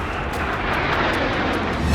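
Sukhoi fighter jet at an Indian Air Force base, a steady, loud, broad engine roar that fills the whole moment without a break.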